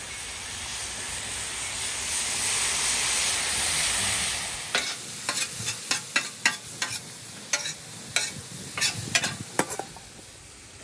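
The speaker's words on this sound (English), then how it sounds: "We're going to add a little bit of soy sauce to the vegetables now." Vegetables sizzling loudly on a Blackstone griddle as soy sauce is added, a steady steamy hiss that fades into a run of sharp metal spatula taps and scrapes, close up with no talking.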